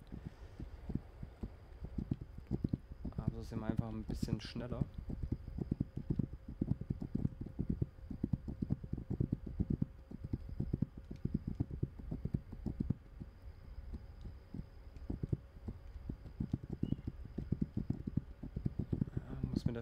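Horse hooves clip-clop steadily while riding a horse in the video game This Land is my Land, a continuous rhythmic thudding under someone speaking German throughout.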